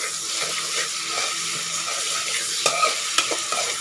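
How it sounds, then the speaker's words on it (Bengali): Shrimp and green chillies frying in hot oil, giving a continuous close sizzle with occasional stirring taps and scrapes near the end. "এখন এগুলো তেলে ভাজবো।"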